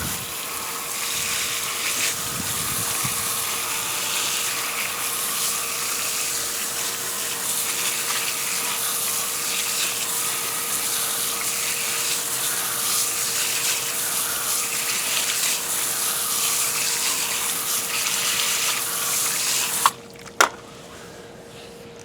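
Water spraying steadily onto a car wheel to rinse off brake dust cleaner, a loud continuous close hiss and gush that cuts off near the end.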